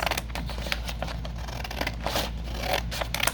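Scissors snip through paper, likely vintage newspaper, in a run of quick crisp cuts with light rustling, close and steady, no voices.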